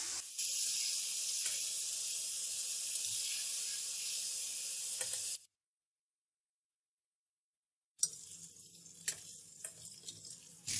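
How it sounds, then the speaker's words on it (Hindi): Chicken pieces frying in hot oil for a Peshawar-style charsi chicken karahi give a steady, loud, broad sizzling hiss. The hiss cuts out for a few seconds of silence, then returns with sharper crackles and pops. "इसका गोल्डन कलर आने तक हम इसको फ्राई करेंगे।"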